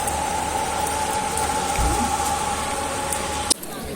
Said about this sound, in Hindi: तो बारिश आ गई, दर्शन करने के टाइम ही पानी नहीं था, अभी और तेज हो गया।